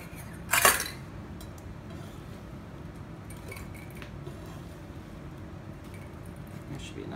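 Watermelon pieces dropped into a mixing bowl give one brief clinking clatter early on, followed by quiet kitchen background with soft handling noises.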